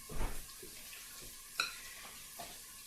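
Food is stirred in a pan, with a soft sizzle under a few distinct utensil scrapes and light clinks, one near the start and one mid-way, quiet and close with no talking.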